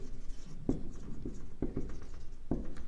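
A marker or chalk scratches across a classroom board during a lesson, with soft rubbing strokes and a few distinct taps spaced about a second apart, close but fairly quiet under low room noise.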